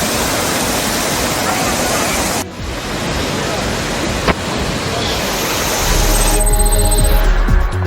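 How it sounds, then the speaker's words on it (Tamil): Kovai Courtallam waterfall, where tourists bathe, roars as a loud, steady rush of broadband falling water, close and unbroken, with a brief shift midway and rising intensity near the end. "திறக்கப்பட்ட கோவை குற்றாலத்தில் சுற்றுலா பயணிகள் குளித்து மகிழ்ந்தனர்."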